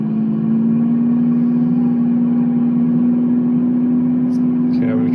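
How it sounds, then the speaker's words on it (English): Steady, loud engine drone of a Cirrus aircraft at full throttle in a flight simulator, holding one sustained tone throughout with a faint extra noise near the end. "I'm going to get up to full throttle here"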